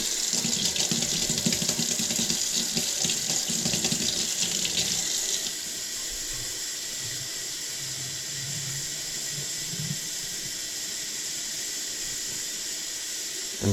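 A Philadelphia kitchen tap runs with a steady, close hiss of water, strongest for the first five seconds and then continuing slightly softer to the end.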